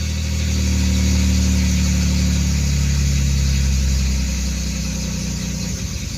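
A misfiring 2.8 V6 in a 1989 Chevrolet Celebrity idles loudly up close, its rough rumble sagging and stumbling as the revs drop back after a blip.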